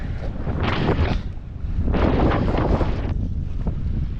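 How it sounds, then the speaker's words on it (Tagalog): Rough sea waves and strong wind at Lamon Bay, with heavy wind buffeting the microphone and surging surf washing in two broad swells, loud and close, no talking. "Ganito din mga amigo ang alon-alon dito sa Lamon Bay."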